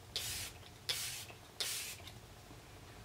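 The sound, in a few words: setting spray spritz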